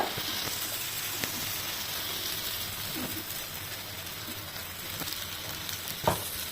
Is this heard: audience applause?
no